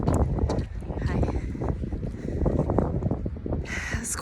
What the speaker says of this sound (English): It's quite windy outside.